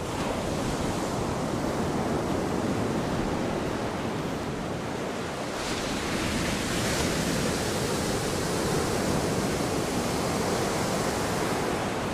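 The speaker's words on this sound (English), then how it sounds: "Look at that wave, that big ass wave coming in." Ocean waves breaking continuously on a beach in Colombia, a broad steady roar of surf with gentle swells in intensity and a little wind, with no voices.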